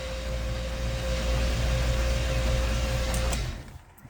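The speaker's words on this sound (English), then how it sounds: "It's cranking over good" A 1965 Oldsmobile Cutlass engine cranks over on its starter without firing, a steady, even whirring drone that runs for about three seconds and then cuts off.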